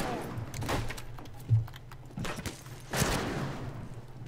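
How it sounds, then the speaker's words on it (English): Gunfire from a bot in the Western shooter game Fistful of Frags: a few sharp broadband shots, one near 1.5 s and a stronger one around 3 s, over a low steady game hum. "Stop shooting me, you shit."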